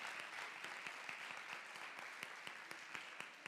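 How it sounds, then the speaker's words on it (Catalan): Steady applause from an audience, many hands clapping continuously with sharper individual claps standing out, lasting the whole stretch. "Jo crec que un aplaudiment se l'ha guanyat."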